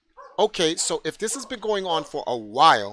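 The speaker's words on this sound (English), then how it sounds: "close that door because I don't know why the dog's barking" A dog barks indoors, its yaps mixed in beneath someone talking steadily in the foreground.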